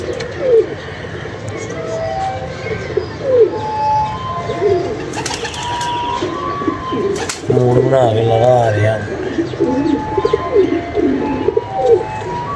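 A pigeon coos in low, soft bursts after landing, close by, with other bird chirps and a brief flutter, while someone talks over it.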